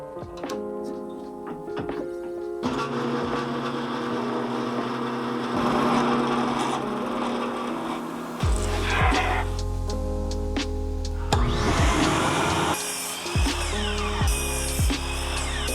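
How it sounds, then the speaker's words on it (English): Drum sander grinding across a glued-up wood panel, a steady loud mechanical roar with shifting pitch as the stock feeds through, continuous throughout with no talking. "I let the glue fully cure overnight and then run it through my drum sander."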